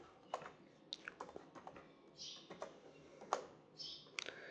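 Typing on a computer keyboard while entering employee details into an Excel database form, with quiet, irregular clusters of key clicks and taps that sound close by.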